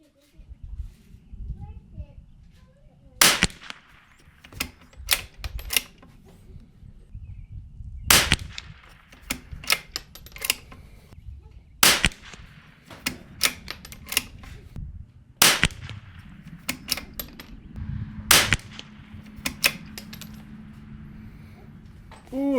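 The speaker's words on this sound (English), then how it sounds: "We'll load up another mag and shoot a couple more groups before we go." Sharp, loud rifle shots ring out one at a time from an F-Class rifle in a WOOX Cobra Tikka stock, spaced several seconds apart, with quieter clicks and handling noises between them.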